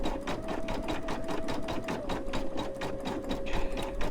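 An electronic embroidery machine stitches a Dollar Tree potholder with a steady, fast needle rhythm over a constant motor whine. It runs close and continuous with no talk.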